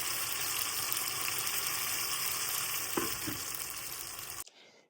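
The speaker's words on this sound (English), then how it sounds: "So I'm going to just run water over my meat" Tap water runs over frozen meat pulled from the freezer, a steady, close rushing hiss that holds evenly for several seconds before cutting off abruptly near the end.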